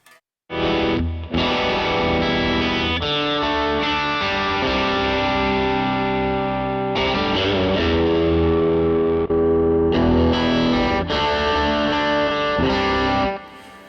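Distorted electric guitar heard through a York Audio Matchless 2x12 cabinet with a 121 speaker, played continuously for over ten seconds with sustained chords and riffs, loud, close and dark-toned, with no talking.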